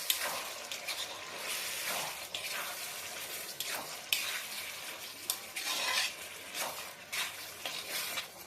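Pasta sauce is stirred in a frying pan, with repeated soft scraping and sloshing strokes at a steady, fairly quiet level and no talking.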